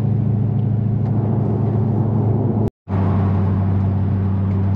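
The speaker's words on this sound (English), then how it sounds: "you get some great turbo noises, which is a huge huge plus for me for the rear mount setup" A C6 Corvette with a rear-mount twin turbo setup and MaxxEcu tuning drives with a steady, loud engine drone and a whirring turbo hiss. The sound cuts out briefly midway, then the same rumble resumes.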